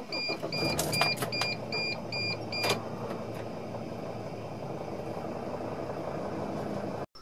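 A 2006 Winnebago View motorhome engine idles with a steady low rumble, while a series of electronic beeps sounds near the start and then stops, leaving the engine running alone until it cuts off at the end.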